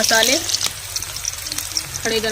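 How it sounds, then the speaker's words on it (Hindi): Garlic and chili frying in hot oil while cooking aloo chole in a village kitchen, making a loud, close crackling sizzle with brief stirring sounds, as a voice speaks over the start and end. "लहसुन को भी हम डाल देते हैं तेल में।"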